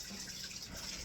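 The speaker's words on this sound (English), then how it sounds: "I'm going to wash my hands again" Tap water runs steadily from a faucet during handwashing, a continuous close hiss of flowing water with no pauses.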